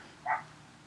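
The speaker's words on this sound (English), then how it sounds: "there's a dog barking outside." A single short dog bark from outside, heard once at moderate distance through quiet room tone.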